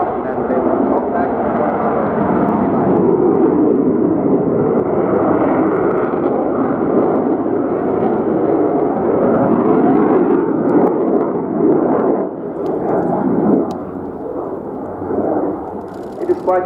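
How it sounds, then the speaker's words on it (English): A PC-7 turboprop and an F-18 jet fly together in formation at an air show, producing a loud, steady engine roar that stays sustained throughout, dipping briefly near the end. "It is quite difficult to fly a formation like this because the speed range of the PC-7 and the F-18 is completely different"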